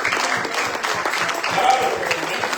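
A church congregation applauds during a Spanish-language sermon, a steady, dense clapping that fills the space and holds at an even level throughout.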